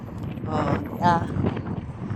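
Wind rumbles and buffets the microphone in a steady low roar, with a person talking underneath.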